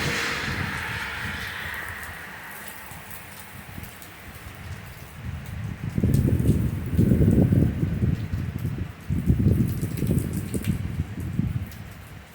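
Heavy rain from a severe thunderstorm in Claremont, New Hampshire pours down continuously. A hissing wash comes first, then a louder, nearer pattering roar swells through the second half, with no voices.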